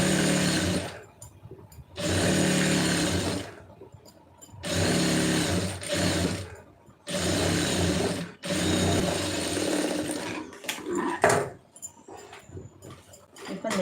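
A sewing machine runs a seam along a garment's lining in several close, steady bursts of rapid stitching, each a few seconds long with short pauses between, and someone speaks during the gaps.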